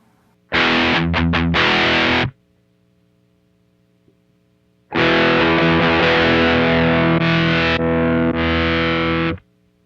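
Electric guitar played through a Strymon Riverside overdrive pedal, giving two loud distorted bursts of strummed chords separated by a pause in which a faint steady hum remains.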